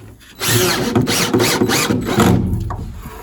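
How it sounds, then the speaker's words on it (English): A power drill whirs loudly up close, pulsing in several short surges as it drives a screw into plywood lining in a narrowboat's bow, its motor pitch rising and falling. "This is really a drill."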